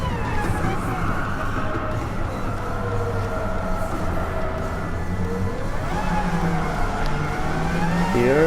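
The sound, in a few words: Suzuki Escudo race car engine in Gran Turismo 7 video game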